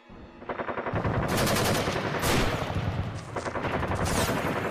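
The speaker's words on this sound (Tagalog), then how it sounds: "Saan nang gagaling ang mga sunod-sunod na mga putok ng mga baril na yon?" Rapid bursts of machine-gun fire as a sound effect in a Tagalog audio drama, loud and close, with sustained rattling volleys that build and continue without pause.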